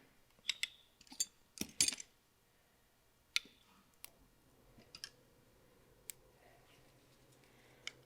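A plastic trim panel on a Yamaha R7 motorcycle snaps back into position: a quick run of sharp, close plastic clicks in the first two seconds, then a few sparse, fainter ticks in a quiet room with no talk.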